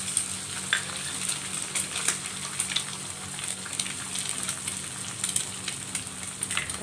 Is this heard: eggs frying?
yes